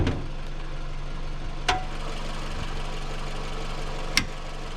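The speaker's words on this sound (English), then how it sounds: "now we have the car idling in neutral and it's warm." A warm 2009 Pontiac Vibe engine idles steadily in neutral, with a low, even hum and two brief sharp clicks.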